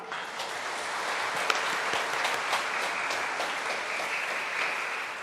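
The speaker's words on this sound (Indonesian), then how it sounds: "Juga kita beri tepukan tangan untuk kor kita." A church congregation at Sunday Mass applauds the choir of young Catholics, an even, sustained wash of clapping from a large hall with a few sharper claps standing out, and no voices.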